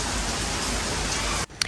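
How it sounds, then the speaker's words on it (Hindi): Heavy rain falling during a monsoon downpour, a dense, loud, steady hiss of drops that cuts off abruptly near the end, followed by a brief faint patter. "बारिश तेज़ हो रही है"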